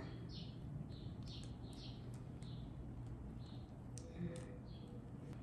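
Small birds chirp outdoors in spring, faint repeated high tweets scattered across a few seconds over a quiet background hum, with no one talking.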